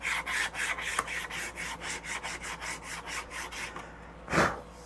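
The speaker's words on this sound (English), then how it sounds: "I will take my little abrader here, and I'm going to clean off some of those deep gouges from the file." Small abrader rubbed back and forth over guitar wood to smooth out deep file gouges during a guitar build, a steady series of about fifteen rhythmic scraping strokes, close and clear, ending with one louder stroke.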